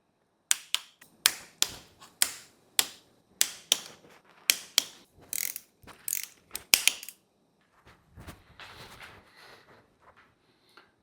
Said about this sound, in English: Let's apply the final torque to these crown bolts.